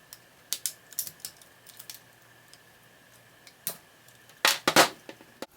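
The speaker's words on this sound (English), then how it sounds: "take your wire cutters or needle nose pliers, get it wedged underneath the board" Needle nose pliers pry a circuit board off the motors of a Nerf Modulus ECS-10 blaster, giving sharp scattered plastic clicks and snaps that cluster into a louder burst near the end, with no speech.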